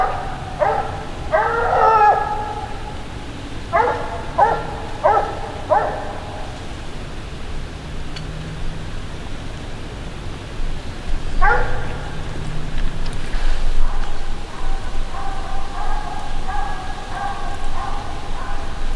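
A coon hound barks at a treed raccoon outdoors at night, with clusters of sharp barks early on, another burst midway, and drawn-out, bawling howls toward the end, heard from a moderate distance.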